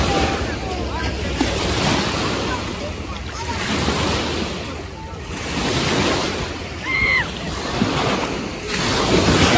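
Small waves lap against a Lake Huron shore at Tawas City, Michigan, a continuous washing surge with wind on the microphone, as faint voices of swimmers carry in the background.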